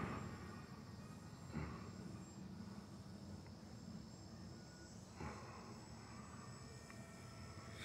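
Electric motor of an Aeroscout S2 1.1 m RC plane cruising at about 35-40% throttle on a morning flight, heard as a steady, fairly distant buzzing drone with a soft rushing wash that swells slightly twice.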